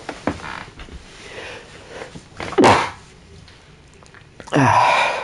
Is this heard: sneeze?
yes